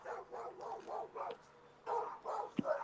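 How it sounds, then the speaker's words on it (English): A dog barks repeatedly in a rapid, rhythmic series of yaps, pauses briefly, then resumes with a few more barks, moderately loud and somewhat distant. "tell that dog to shut the fuck up"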